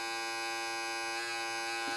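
Steady, close electric buzzing from a Philips Multigroom Series 5000 trimmer runs continuously without pause, loud and unbroken with a faint shift in tone toward the end.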